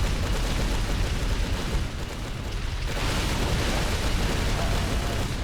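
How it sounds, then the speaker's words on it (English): Heavy, continuous weapon fire from a scrap cannon in Halo 3 roars throughout, dense and booming with a brief dip partway before resuming at full loudness. "And we'll just use the scrap cannon against them."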